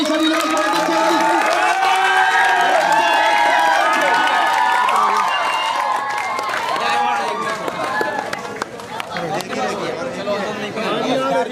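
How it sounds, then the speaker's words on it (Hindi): A large crowd cheers and applauds to welcome Sandeep Goyal, an Aam Aadmi Party figure, at a night gathering in Yamuna Nagar, with loud sustained clapping and chatter that continue throughout. "आम आदमी पार्टी संदीप गोयल जी का जोरदार तालियों से स्वागत करेंगे भाई सभी लोग"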